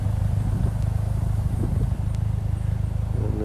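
Vintage 1951 Ferguson TEA20 tractor running while cutting grass with a rear 6-foot finish mower, its low engine chugging steadily and fairly loud throughout, with no voices.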